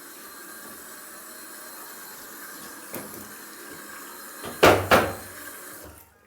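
A bathroom sink tap in a Spanish home runs steadily with hot and cold water, a constant hiss that drains away, with a couple of louder splashes or gurgles near the end.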